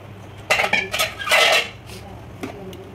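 A spoon clinks and scrapes against a pot as half a litre of milk is stirred into semolina and chana dal for rava kesari, with several loud bursts of metallic stirring over about a second, then a single sharper clink.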